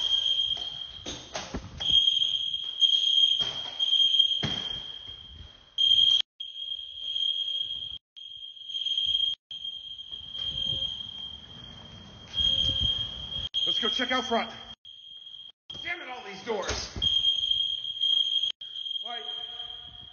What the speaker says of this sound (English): Somebody said pull the fire alarm and let's see who lives here.